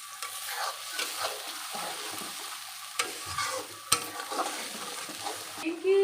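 A spice paste of mustard, ginger, onion, garlic, tomato, turmeric and chili powder sizzles gently in a pan while being stirred, with scraping stirs and occasional clinks of the utensil against the pan over a soft, steady fry.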